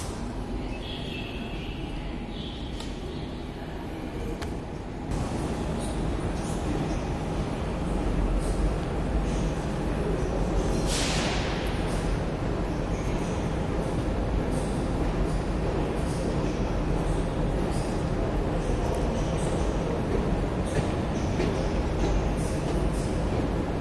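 A metro train rumbles steadily at close range at a Lisbon station, a dense low roar with rattling and a brief hiss partway through, no voices.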